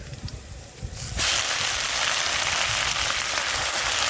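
Jute greens hit hot oil already holding fried garlic, green chillies and black cumin in a kadai. After a quieter first second, a loud, dense hiss bursts up and carries on steadily to the end.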